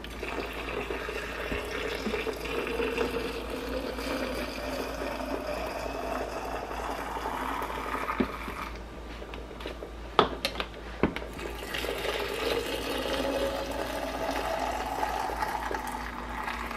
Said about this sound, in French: Je vais venir rajouter l'eau